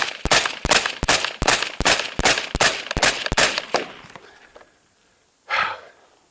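About a dozen sharp 5.56 rifle shots from an 11.5-inch rifle with a Resilient Suppressors Stacy's Mom suppressor and vented end cap crack in a quick, even rhythm, the action louder than the muffled pop, followed by quiet and then a single breathy exhale.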